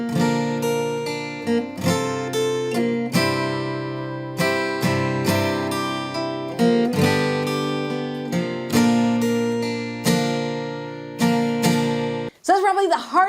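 Acoustic guitar playing a song at a brisk pace, steady plucked and strummed chords ringing close and clear for about twelve seconds, ending with a brief voice.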